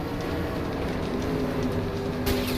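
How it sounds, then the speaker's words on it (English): A train rumbling through a tunnel in the video game LA Noire, a steady heavy rolling drone with tonal hum and a brief brighter metallic burst near the end, no voices. "god damn it, the train up ahead"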